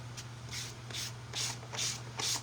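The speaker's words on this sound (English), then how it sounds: "Now we're gonna remove the extra rice paper. So you can use this, you can use any sander you have." A power sander takes excess rice paper off the edges of a round stretched canvas in a decoupage project, five short rhythmic scrubbing passes over a steady low motor hum, close and fairly quiet.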